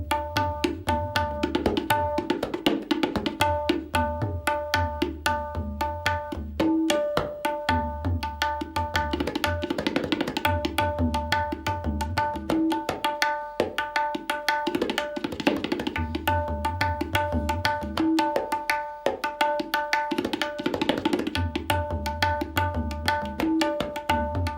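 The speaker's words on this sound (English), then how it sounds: "So on the tabla that would sound like this." Steady rhythmic drumming with pitched, ringing strokes and low booming bass tones, a continuous busy pattern running throughout with no voices.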